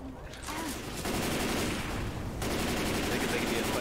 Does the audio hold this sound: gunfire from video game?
yes